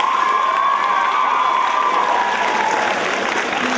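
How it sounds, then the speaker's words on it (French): A crowd applauds and cheers at a head-shaving charity challenge for sick children, a dense, loud, continuous roar of clapping with shouts and children's voices mixed in. "Donc, je pense qu'on peut les applaudir"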